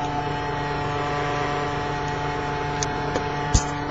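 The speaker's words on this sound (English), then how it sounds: "The CD drive is roaring when I put the recovery disk in." A computer CD-ROM drive reading a Windows recovery disc gives a steady whirring roar with a constant low hum, heard alone with a few faint clicks near the end.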